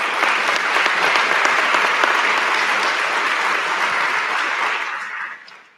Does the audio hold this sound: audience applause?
yes